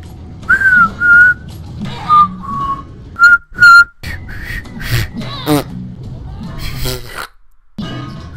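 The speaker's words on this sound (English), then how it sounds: "Oh, I can't whistle." Someone tries to whistle in a few short, breathy bursts with thin tonal bits, mixed with brief sounds from a mobile game; no clear spoken words.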